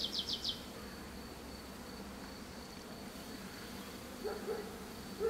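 Steady insect buzzing from about 12,000 honeybees at a hive fills the clip, a dense low hum with a few brief louder passes near the start and end.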